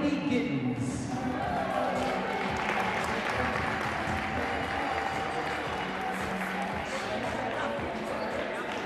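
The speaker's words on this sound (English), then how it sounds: "give a big round of applause to the Canadian Wheelchair Basketball League CEO" Steady, sustained applause from an audience at the Canadian Wheelchair Basketball League women's national championship, a dense wash of clapping held at even loudness throughout, welcoming the league's CEO.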